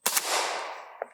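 A single subsonic round fired at dirt 25 yards away from an AKM rifle with a Dead Air PBS1 suppressor, a sharp muffled crack followed by a short decaying whoosh and a faint mechanical clack.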